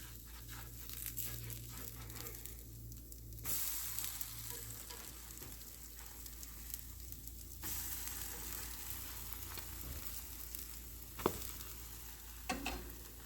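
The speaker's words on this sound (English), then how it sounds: "And sizzle." Soft, steady sizzling of food frying in a pan, with a few faint clinks and scraping noises near the end.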